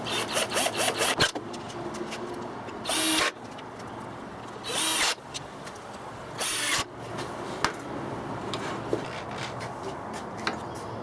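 Power drill boring holes in wood for a router table fence, with several short whirring bursts of a few seconds each separated by quieter pauses and light handling clicks, close to the microphone.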